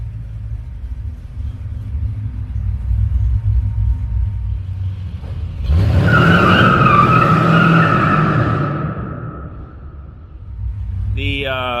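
A 1968 Chevrolet C10 truck with glass-pack exhaust idles with a low rumble, then is given gas for a loud, swelling rev lasting a few seconds before settling back to idle.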